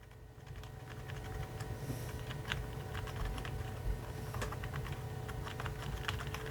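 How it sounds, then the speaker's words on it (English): Soft, steady typing on a quiet Fenek membrane keyboard, rapid muted key presses in a continuous run over a low background hum, close up and quiet. "You have your num locks, of course, all your different keys, and they sound pretty quiet."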